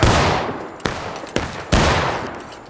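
Heavy bursts of gunfire in a World War II-style war video game battle at Railroad Cut, with three loud, sharp volleys and long echoing tails that fade between them.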